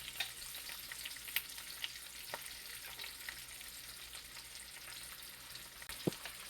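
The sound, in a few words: garlic frying with peppers and onions in a pan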